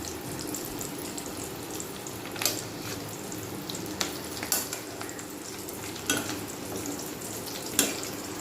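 Pieces of katla fish roe frying in a pan, a steady broadband sizzle with occasional sharper pops and utensil clinks scattered through, close and alone without talk.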